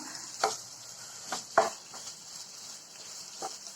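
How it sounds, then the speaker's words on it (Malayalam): Onions and chopped tomatoes for a restaurant-style beef curry are stirred in a frying pan. A soft steady sizzle runs beneath a few scraping knocks of the spoon against the pan, spaced about a second apart. "ഇതിലേക്ക് നമുക്ക് ഈ എടുത്ത് അരിഞ്ഞു വെച്ചിരിക്കുന്ന തക്കാളിപ്പഴം കൂടി ഇട്ട് നന്നായിട്ട് ഒരു പത്ത് പതിനഞ്ച് മിനിറ്റ് ഇങ്ങനെ ഇളക്കി കൊടുക്കാം"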